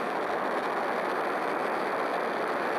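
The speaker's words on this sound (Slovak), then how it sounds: "Takže zapneme takto motory, keď na nich klikneme a dáme štart. A ako vidíte, naša raketa už letí." Rocket engines burn during a launch in Spaceflight Simulator, a steady loud hissing roar that holds evenly from start to finish, with no voices.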